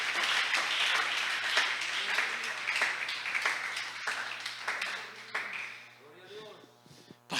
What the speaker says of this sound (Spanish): Alguien que le brinde ese aplauso a mi Señor, por favor.